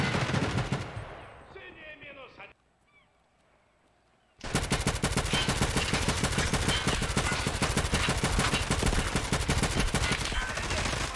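Rapid automatic gunfire in the shooter game Tarkov Arena, a canted MP4-style rifle firing long loud bursts, with an earlier burst, a quiet gap of about two seconds, then sustained continuous fire to the end.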